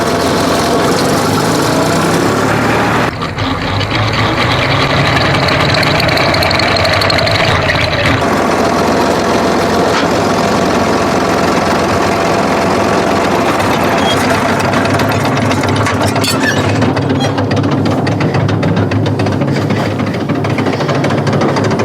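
A tractor engine drives the PTO in a loud, steady, close drone with a rough mechanical chatter. The tone shifts slightly partway through as it speeds up.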